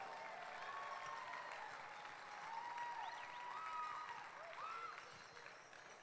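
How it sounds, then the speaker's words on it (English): An audience applauds at the Pelotonia cancer charity opening ceremony. The clapping is faint and distant, with scattered whistles and cheers rising above a continuous wash of hands. "let's give them a huge round of applause"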